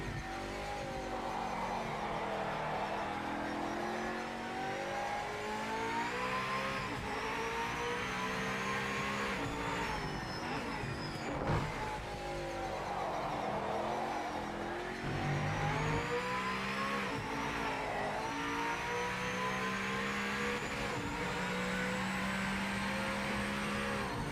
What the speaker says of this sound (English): Ah, what a sound though. Not at all what a Mercedes sounds like today.